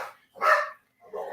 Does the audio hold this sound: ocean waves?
no